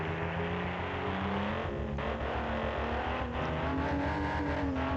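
A flat-six engine on a car in BeamNG.drive, a steady droning exhaust note that dips and rises with the throttle, loud and continuous with no talking.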